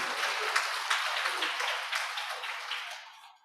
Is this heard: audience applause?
yes